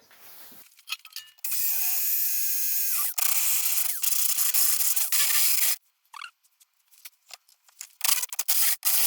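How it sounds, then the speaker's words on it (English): A drill bores out the centre hole of a washer on a car sump flange, a Ford Escort Mk1/Mk2 Zetec RWD conversion, grinding steadily for several seconds and then pausing in short bursts. "we'll aggressively drill that out"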